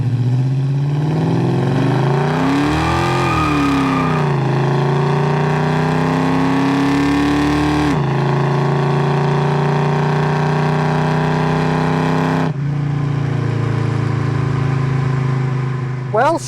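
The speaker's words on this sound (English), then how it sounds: "let's go ahead and rip into the throttle a little bit" A 1970 Chevrolet Chevelle with a 396 V8, recorded from inside on a test drive, revs hard under full throttle, climbing through gears with shifts and loud, sustained engine roar.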